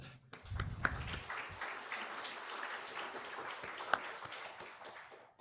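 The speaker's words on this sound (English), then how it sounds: "Big round of applause to Bob, Howard, and Clint." Audience at an aviation accident legal seminar applauding the speakers: sustained, fairly close clapping with sharp individual claps standing out, rising quickly and slowly tapering off.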